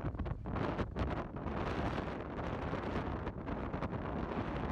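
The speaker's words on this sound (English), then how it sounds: "It's windy." Strong wind buffets a microphone on a long road trip through northern Luzon in the Philippines, a continuous loud roaring rush with gusty swells and no voices.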